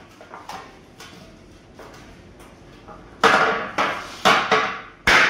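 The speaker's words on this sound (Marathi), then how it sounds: "अशा प्रकारे पहिल्यांदा हातोडीने ठोकून घ्यायचं" Hammer strikes work a dent out of a scooter front panel, starting as a few lighter taps and building into four or five loud, ringing blows spaced about a second apart.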